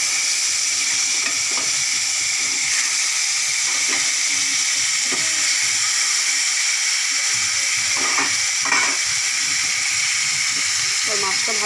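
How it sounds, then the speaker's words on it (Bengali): Salt-and-turmeric-rubbed fish fries in hot oil in a pan on a gas stove, giving a steady loud sizzle with bright hissy crackle and occasional spatters throughout. "মাছটা ভালো করে ভেজে নেব।"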